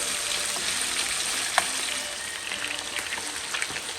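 Chicken leg pieces fry in a hot pan with a dense, steady sizzle and spitting oil, punctuated by a few faint clinks of stirring, close and alone without talk.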